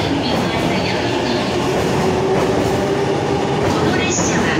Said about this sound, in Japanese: The local train bound for 大宮 will soon arrive on track number 4.